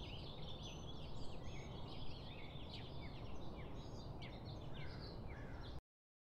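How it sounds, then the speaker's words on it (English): Several birds call and gobble together in a busy outdoor chorus, steady and moderately close, with no talking. "Feathered, winged creatures that produce melodious sounds."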